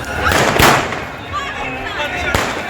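Loud fireworks at a celebration near India's border after a cricket win over Pakistan, with two sharp bursts and crackling echoes over a noisy outdoor background.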